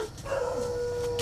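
A dog gives a brief, drawn-out whining howl, close and fairly loud, lasting about a second with no talk over it.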